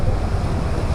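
Deep floodwater on a street in Patimbao, Santa Cruz, Laguna, making a steady rushing wash with low rumble and wind buffeting, close and loud, with no voices.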